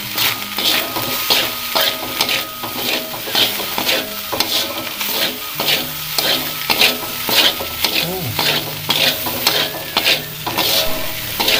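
A spoon stirs seasoning paste frying in a pan, with steady sizzling and repeated scraping strokes against the metal, loud and close, keeping a regular rhythm throughout.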